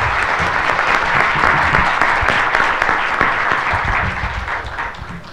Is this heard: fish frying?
no